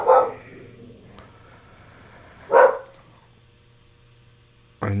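A pet dog barks indoors, with one bark at the start, a second midway and a third cut off at the end, each short and fairly loud over a quiet room hum.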